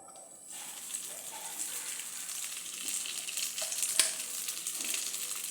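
Egg-coated chowmein roll frying in oil in a kadai, a steady soft sizzle and crackle throughout with a sharper pop near the end, no talking.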